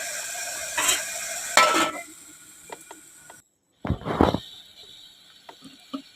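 Onions and green chillies sizzle in a pan for mutton keema, a soft steady frying hiss broken by louder bursts of stirring and spatula scrapes against the pan, with a short silent gap.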